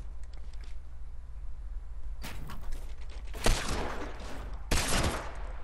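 Gunfire in the Fortnite Battle Royale video game: a few sharp shots, then two dense bursts of rapid firing over a low engine-like hum, moderately loud.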